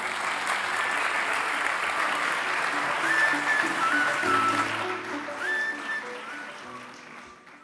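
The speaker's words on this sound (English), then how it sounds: "let's all welcome to the stage with a huge round of applause, Jean-Marc Sauvé" Audience applause welcoming a speaker to the stage at the opening ceremony of a World Scout Education Congress, a broad, sustained round of clapping from a large hall that gradually tapers off.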